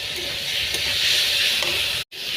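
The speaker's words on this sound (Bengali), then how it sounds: "এবার আদা বাটা দিয়ে দেবো।" Ginger paste sizzles in a pan with chopped tomato, turmeric, salt and chili powder, making a continuous close hiss broken by faint stirring scrapes before it cuts off abruptly.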